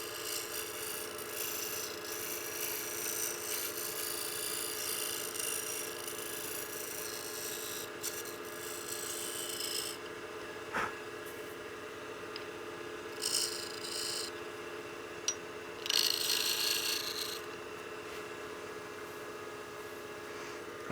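A skew chisel shapes a decorative bead on wood spinning in a lathe, a continuous hissing, scraping cut over the steady motor hum, with brief louder bursts of shaving noise near the end.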